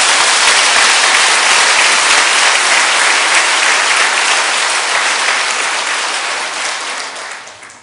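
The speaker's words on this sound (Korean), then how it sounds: "한 번 더 우리 격려의 박수 해드리겠습니다." A church congregation breaks into sustained applause honoring members' mission giving, a dense wash of many hands clapping that stays loud throughout, then begins to thin and fade near the end.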